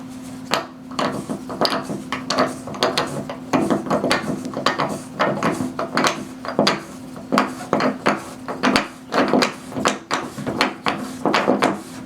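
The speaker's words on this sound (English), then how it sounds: "You turn it backwards until you hear a click" A basin-wrench style tool is turned backwards on a bathtub drain, producing a series of sharp, close metallic clicks in an uneven ratcheting rhythm over a low steady hum.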